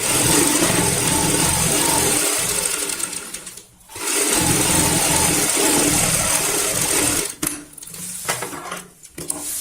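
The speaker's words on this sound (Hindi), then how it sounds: "यहाँ पे इस तरीके से हमें सिलाई लगानी है।" A sewing machine stitches a baby bed sheet: a loud, close, continuous mechanical whir running steadily, breaking off into two short pauses before starting up again, with no talking.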